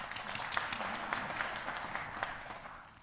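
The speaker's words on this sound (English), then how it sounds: "give a round of applause." Faint applause from a church congregation after a Unity Temple auction announcement during a worship service, with scattered claps heard at a distance for a few seconds.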